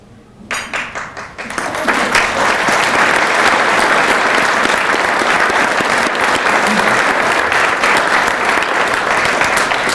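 An audience at a university alumni awards banquet bursts into loud, sustained applause for trustee board members, dense clapping that starts after a brief quiet moment and holds steady to the end.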